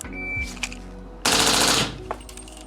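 Rapid automatic-sounding fire from a 300 AAC Blackout rifle fitted with an FRT forced-reset trigger, shot at a target: one sharp report, then a dense burst of shots blurring together for about half a second, loud and close with no talk.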